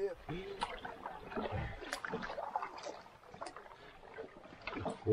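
Water splashes and gurgles around a tandem canoe on Lower Saranac Lake as paddles dip in a steady rhythm, with people talking over the sloshing.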